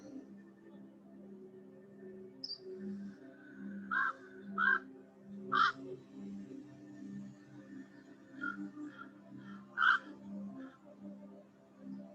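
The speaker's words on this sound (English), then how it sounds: "Hearing the sounds of birds." Birds calling in a park, several short chirps and caws at scattered intervals over a quiet low hum, fairly faint and moderately distant.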